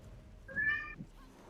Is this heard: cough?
no